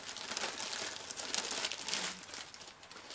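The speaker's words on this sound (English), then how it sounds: "the factory taped plastic bag, very easy to nick and open" A factory-taped plastic bag around an ATOLL IN200 Sig integrated amplifier is nicked and opened, giving soft close-up crinkling and rustling of plastic for a few seconds, with no talking.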